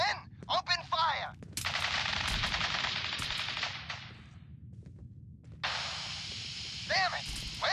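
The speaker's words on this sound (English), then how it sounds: "Stop or we'll shoot. Men, open fire." Automatic gunfire from soldiers in the video game Fallout 4, fired in rapid bursts mixed with sharp single shots, loud and close, with game voices and sound effects layered around the shooting.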